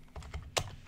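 Computer keyboard keys tapped while writing Java code, a quick run of several light clicks with one sharper, louder keystroke near the end, close up and without talk.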